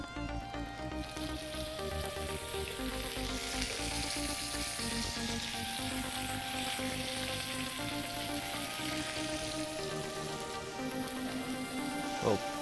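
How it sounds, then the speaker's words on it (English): Swiss chard wilting in butter in a hot pan, with a steady close sizzle and crackle that lasts throughout, backed by faint music. "you're just cooking the Swiss chard till it's wilted down and tender"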